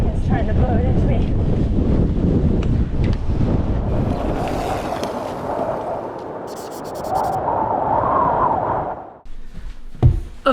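Strong, gusty wind buffets the microphone outdoors at the El Paso Puzzler 2023 bike race, a loud continuous roar that eases slightly before dropping off near the end, with a voice briefly audible.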